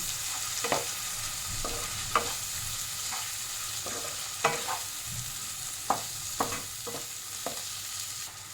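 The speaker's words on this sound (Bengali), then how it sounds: "আর 1 চামচ লঙ্কার গুঁড়ো, আর কটা কাঁচা লঙ্কা দিয়ে ভালো করে কষিয়ে নেব।" Spices with chilli powder and green chillies stir-fried in a pan for mutton ball curry, a soft continuous sizzle with scattered clicks and scrapes of a spoon stirring, close and unhurried, no voices.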